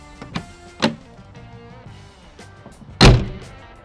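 A solid wooden door on a home-built square drop camper trailer shuts with a few dull thuds, then one loud, heavy slam close by.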